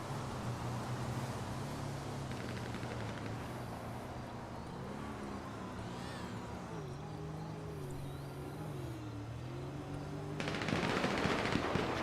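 Firing-squad gunfire in a video game: quiet, continuous rattling bursts under a low wavering drone, with a louder, denser volley erupting near the end.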